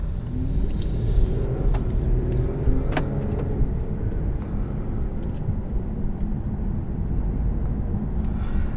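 A 2019 Infiniti Q50S Silver Sport car drives along with a steady low engine and road rumble heard from inside the cabin, loud and continuous throughout, with no talk.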